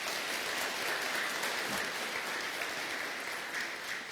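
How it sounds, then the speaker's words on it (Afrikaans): Steady, dense audience applause, an even wash of hand clapping that holds at the same level throughout, with no voices over it. "Kom ons gee vir hom 'n lekker hande klap toe."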